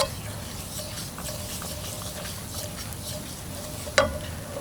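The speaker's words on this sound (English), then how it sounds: "got my butter sizzling right here." Butter sizzles steadily in a hot pan, a soft crackling hiss with scattered pops and a brief sharp clink near the end.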